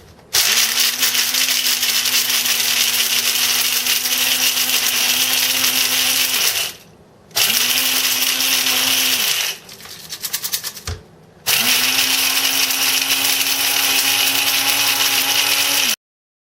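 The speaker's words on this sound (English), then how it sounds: "So I'm going to plug that in, put the top on, and just blend it." A loud blender grinding celery whirs in three long bursts separated by short pauses, a steady grinding drone with a rattling stop between runs.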